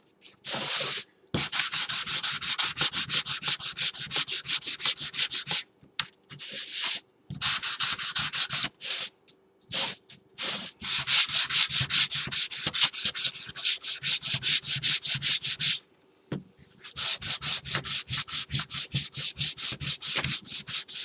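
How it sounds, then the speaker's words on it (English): Steady rhythmic scratching of sandpaper rubbed by hand back and forth over a wooden Easter egg, close and continuous in long bursts separated by short pauses. "So now I'm just sanding over all of it."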